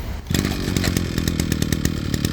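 A brush cutter engine catches after its start handle is pulled and settles into a loud, buzzing two-stroke idle close by, with a pulsing, throbbing rhythm.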